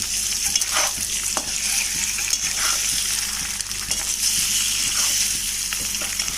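Boiled eggs frying in oil in a pan for egg masala curry, with a steady sizzle and frequent clinks and scrapes from stirring. A few light knocks sound against the pan. No voices are heard.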